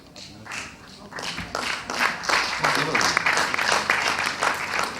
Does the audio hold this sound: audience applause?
yes